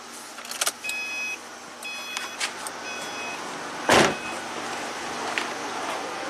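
Turning the ignition key on a 2009 Subaru Forester with a crank no-start fault brings faint electronic chimes and tones over a steady hum, with a brief louder whoosh or click partway through.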